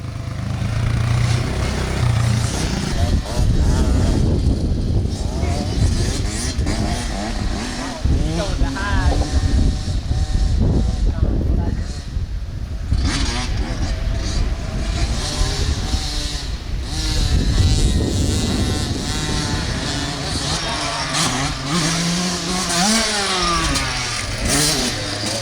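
A Kawasaki KLX dirt bike rides around a track, its engine buzzing loud and near with repeated revving rises and falls, while people cheer and shout over it.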